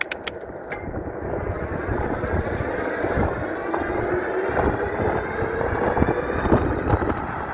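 A fast electric bicycle accelerates hard toward about 43 mph, its motor whine climbing steadily in pitch beneath heavy rushing wind buffeting the microphone, with no speech.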